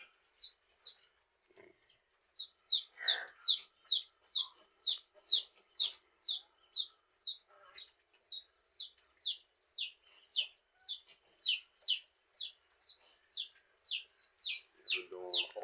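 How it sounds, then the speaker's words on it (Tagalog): Chickens at a small backyard farm with a hen sitting, giving a long run of regular, evenly spaced close clucks and calls that repeat steadily throughout, with some faint background noise between them. "Meron doon nakaupong manok."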